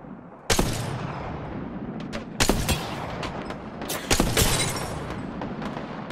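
Gunfire in the video game Apex Legends: sharp, loud shots in three separate bursts over a dense, noisy battle background, with no talking.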